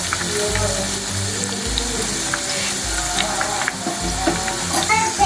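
Lachha pakoras sizzle steadily in hot oil, a dense continuous frying crackle with faint clinks and scrapes as the fritters are added by hand.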